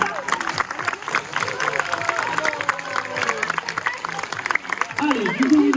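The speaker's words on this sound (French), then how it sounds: "Et je crois qu'on peut l'applaudir bien." Audience clapping at a zoo sea lion show in Plaisance-du-Touch, a steady wash of applause mixed with crowd chatter and voices, with a closer voice rising near the end.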